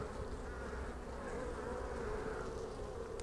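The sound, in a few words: honeybees buzzing at an opened hive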